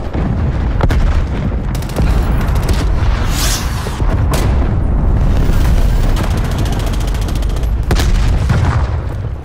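A grenade explodes during Call of Duty Black Ops Cold War multiplayer, amid dense, loud, continuous rumbling booms and battle noise with sharper blasts rising out of the din.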